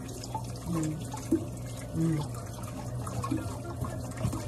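Peeled cassava being washed by hand in water, gentle splashing and dripping with intermittent sloshes and light knocks, fairly quiet and close.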